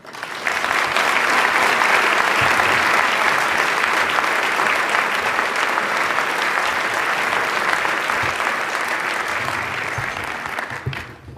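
A large audience bursts into sustained, dense applause welcoming Governor Mark Carney, loud and even from start to finish before tapering off at the end, with no speech over it.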